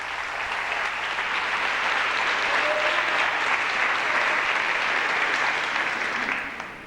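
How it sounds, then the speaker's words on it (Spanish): A church congregation applauding during a sermon, a thick, sustained wash of clapping that holds steady for several seconds before tapering at the end. "Dale un aplauso al Señor"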